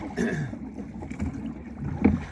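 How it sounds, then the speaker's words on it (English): A sailboat motor sailing under engine power at about three knots on a sunny day, with a low steady engine hum mixed with wind buffeting the microphone and water noise. "doing a little motor sailing, and it's not too bad"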